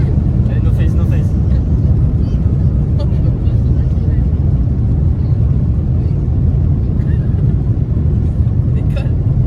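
Steady, loud jet-engine roar heard from inside a passenger airplane accelerating down the runway for takeoff, a constant low rumble filling the cabin, with people talking faintly beneath it.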